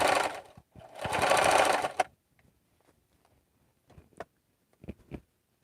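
A mechanical sewing machine with no computerized parts stitching in a home sewing room: a loud, close whirring run of about two seconds, then scattered light clicks and taps as the machine stops.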